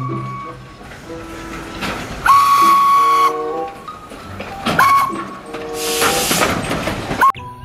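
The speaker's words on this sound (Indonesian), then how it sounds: "lihat, di sini ada kereta Thomas." A Thomas toy train rattles along with bursts of bright, shrill whistle blasts repeating several times, close by and fairly loud.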